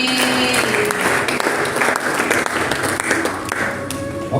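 A church congregation applauds loudly, dense clapping sustained for several seconds, with a few voices and shouts mixed in.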